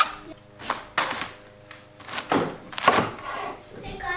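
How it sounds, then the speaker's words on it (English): A knife chops cabbage for sauerkraut from an organic garden in several loud, uneven strokes on a board at close range, with people talking between the cuts. "We're chopping cabbage."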